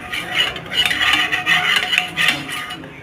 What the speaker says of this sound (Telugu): చూడండి ఆయిల్ మొత్తం దానికి స్ప్రెడ్ అయ్యేటట్లు మొత్తం రాసుకున్నానండి నేను.